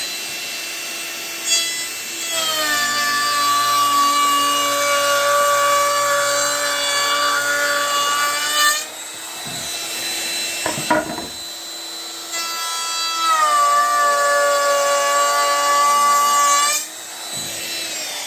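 A router with a roundover bit shapes the edge of a wooden window-trim board on a table saw, its high whine running through two long passes with clunks and brief pauses between them, and no one speaking.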